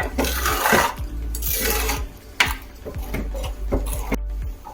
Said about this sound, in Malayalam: അടിച്ചു വെച്ച ഹാഫ് കപ്പ് തൈര് ഒഴിച്ചു കൊടുക്കാം ജസ്റ്റ് ഒന്ന് ഇളക്കാം